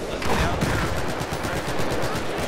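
Rapid gunfire in a 64-player Conquest match of Battlefield 4 on the Zavod 311 map, loud, dense bursts crackling continuously throughout under a busy battle din.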